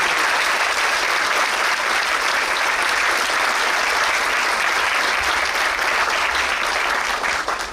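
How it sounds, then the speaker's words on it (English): A large audience at a national exchanges members' association event breaks into loud, sustained applause for India's External Affairs Minister, continuous dense clapping that holds steady without talk. "And I think we should do it with a huge round of applause."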